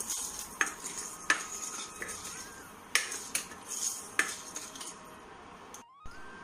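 Black pepper powder and fennel seeds dry-roast in a pan, heard as a spoon repeatedly scraping and tapping against metal at an uneven rhythm over a faint sizzle, with no speech.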